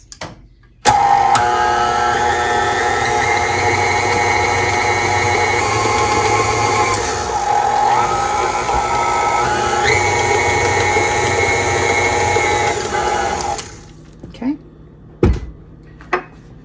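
Electric mixer whirring through strawberry cupcake batter, a loud steady motor hum that starts abruptly, runs continuously for about thirteen seconds with a slight pitch shift, then stops, followed by a few clunks.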